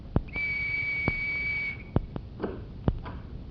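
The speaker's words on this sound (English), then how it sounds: "Now I'm going to show you how a whistle can be a door key," A sustained high whistle from an old radio detective drama sounds for about a second and a half, used to trigger an electric door-opening mechanism, with sharp clicks and knocks before and after it and no talking.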